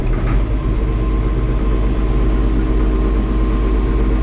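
A 7045 farm tractor engine idles loud and close with a deep, steady rumble, holding an even level throughout with no voices.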